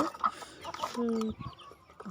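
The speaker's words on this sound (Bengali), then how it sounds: "দিদি খেতে দিয়েছে, তাই সব মুরগি এক জায়গায় রয়েছে।" Several chickens clucking close by in short, irregular bursts, with one drawn-out cackle in the middle and some faint voices underneath.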